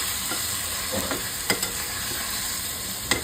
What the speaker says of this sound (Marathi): पुन्हा हे असं हलवून घ्यायचं आपण